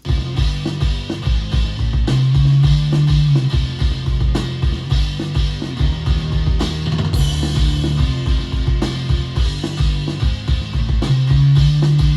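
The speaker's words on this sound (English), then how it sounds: "just how badass the drums and bass sound alone on here" Punchy drums and a deep bass guitar groove together in a steady, driving rhythm, loud and upfront with no other instruments.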